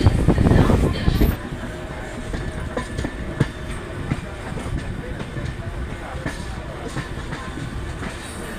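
Passenger train on the Asansol to Ranchi line via Purulia, crossing toward the Damodar river bridge: a steady rolling rumble with rhythmic wheel clatter, loud and close from inside, after a brief louder burst at the start.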